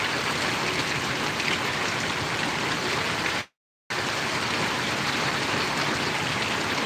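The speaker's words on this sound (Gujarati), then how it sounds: "ખૂબ સરસ મજાનો વરસાદ પરોળી ગામને આંગણે પડી રહ્યો છે" Rain keeps falling on Parvadi village in Gariyadhar taluka as a uniform, close hiss, broken once by a brief total dropout midway before resuming at the same level.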